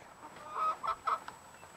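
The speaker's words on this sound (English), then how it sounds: "Hi, chickens!" Chickens cluck softly nearby in a few short bursts at a farm, fairly faint and with no talking.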